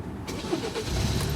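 A car engine starts with a brief crank that catches into a loud, close running rumble.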